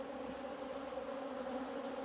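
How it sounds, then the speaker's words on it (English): Bees buzzing in an open beehive during a hive inspection, a steady, faint drone with a continuous low hum and no voices. "and a bunch of mean bees."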